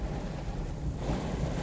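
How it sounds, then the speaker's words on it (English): Heavy pouring rain in Medina County, Ohio, a steady dense roar with low thunder rumbling underneath throughout, with no voices. "It's raining."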